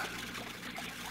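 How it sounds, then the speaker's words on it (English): Water from a small fountain trickles in a steady, soft stream, with a continuous splashing wash and no voices over it. "Most ingenious, my fountain. Costs so little to run. Because it uses the same water"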